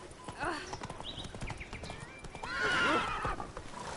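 Hooves of Roach, Geralt's horse in the video game The Witcher 3, clopping steadily in a quick rhythm, with a whinny and bursts of other game sounds and effects in the mix.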